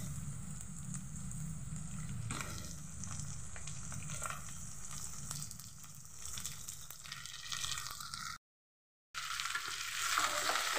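Pieces of desi chicken frying and being stirred in a pan of hot oil give a steady, close sizzle with scraping stirs. The sound drops out briefly near the end, then the sizzle returns.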